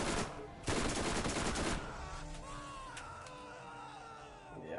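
A sub-machine gun fires a rapid, loud burst in the Borderlands video game, then falls away to quieter game sounds.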